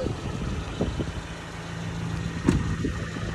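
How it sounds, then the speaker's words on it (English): A car with an electrical problem being driven, its engine giving a steady low mid-pitched rumble with a few brief knocks and bumps, heard from inside the cabin and without talking. "Just try driving a bit more."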